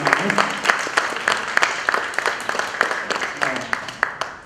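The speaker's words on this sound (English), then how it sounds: "I think we should all give Alexandria a round of applause for the amount of work she's done." Audience at a science cafe gives a round of applause, a moderate crowd of hands clapping with distinct individual claps audible, fairly close and lively, tapering slightly toward the end.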